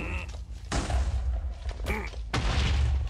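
Cannons firing explosives in the Minecraft zombie apocalypse map Outbreak 3, heard as several heavy booming thuds in quick succession, loud and close, with a brief voice exclamation between them.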